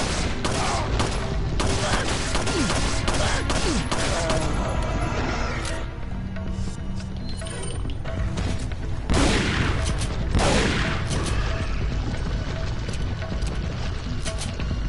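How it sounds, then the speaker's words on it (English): Dense video game gunfire from Ada's weapons, including her upgraded shotgun, in Resident Evil 4: rapid loud volleys and blasts crowding together, easing briefly midway before heavy shots resume. "her shotgun is a little bit different from Leon's"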